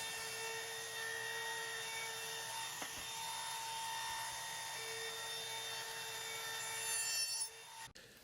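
A router rounds over the edges of wooden serving tray handles, a steady high machine whine running for several seconds before cutting off abruptly near the end.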